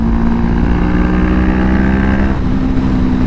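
A Honda CBR500R motorcycle fitted with a full exhaust drones with a loud, steady, deep rumble up close, dipping briefly in pitch partway through.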